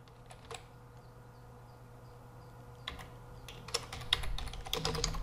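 Keystrokes on a computer keyboard while C++ code is typed in Visual Studio Code on Windows 10, sparse single taps at first, then a denser burst of quick clicks toward the end over a faint steady hum.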